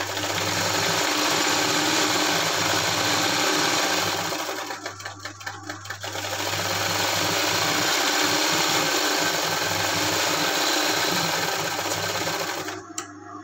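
Sewing machine stitching folded fabric for a homemade hair rubber band, a close, steady mechanical whir running almost continuously, easing briefly partway through, then stopping at the end, with no talk.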